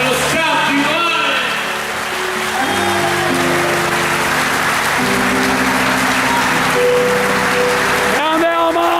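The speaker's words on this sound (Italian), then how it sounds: "Fatelo sentire l'applauso allo staff di Mare." Applause from the crowd at an outdoor village festival concert in Noale, loud sustained clapping over a held keyboard chord that shifts pitch, with a voice calling out near the end.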